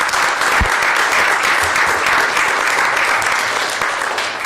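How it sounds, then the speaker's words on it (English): Sustained applause from the audience at a council meeting, honouring the junior council; a steady, dense wash of clapping that stays loud throughout and begins to taper slightly near the end. "Another round of applause, please, for our junior council."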